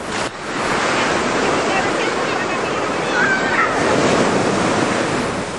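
Ocean surf rolls onto the beach at Napili Bay in a loud, steady wash that rises and falls, with gusty wind buffeting the microphone and footsteps along the sand.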